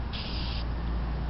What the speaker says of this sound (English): I'm gonna go ahead and spray paint